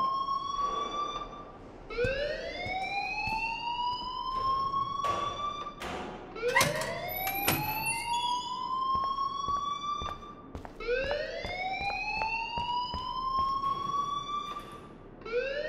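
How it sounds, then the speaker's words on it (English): A fire alarm in the video game Life is Strange wails in repeated rising sweeps, loud and insistent, cycling steadily over about fifteen seconds with sharp clatters mixed in. "please turn off that alarm since that's your job"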